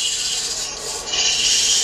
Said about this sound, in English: and a little bit of sanding on the top edge